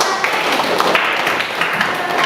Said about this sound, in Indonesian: Tepuk tangan untuk Heri